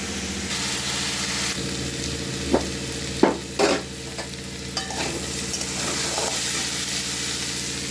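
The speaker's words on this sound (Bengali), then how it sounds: "আলু ভাজা হচ্ছে" Potatoes fry in a pan with steady broadband sizzling throughout, stirred now and then with a few sharp utensil clinks and scrapes partway through, in a home kitchen with no talking.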